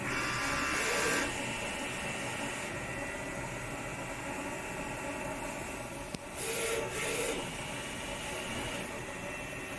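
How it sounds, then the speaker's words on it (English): Epson F1080/XP600-head PET DTF A3 printer running a vertical calibration test print, a steady mechanical whir with carriage movement and brief shifts in pitch around midway, continuous and close, with no talking. "the printer starts to print out a vertical calibration picture out"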